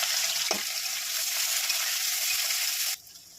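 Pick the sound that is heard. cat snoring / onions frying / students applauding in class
onions frying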